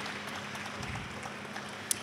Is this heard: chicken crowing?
no